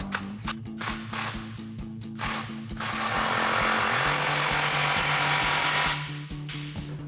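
An exhaust muffler clamp on a Toyota Tundra being tightened with a power tool, loud rapid ratcheting bursts followed by a longer continuous whirring run, then a few more short bursts, no talking.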